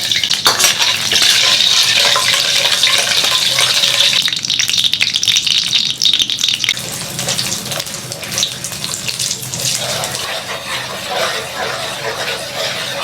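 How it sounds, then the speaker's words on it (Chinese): Sugar frying in hot oil in a wok for caramel color, a loud continuous hiss with bubbling and watery spatter, easing somewhat after the first few seconds. "锅中加油， 炒个糖色。"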